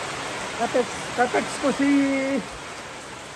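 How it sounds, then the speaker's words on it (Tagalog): Sudden heavy rain falls outdoors on a farm, a steady dense hiss throughout, while someone speaks briefly over it. "bumaksak bigla, malakas na ulan"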